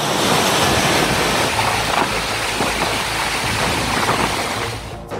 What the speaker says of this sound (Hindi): 3 जून की सुबह से तटीय इलाकों में तेज हवाएं चल रही थी।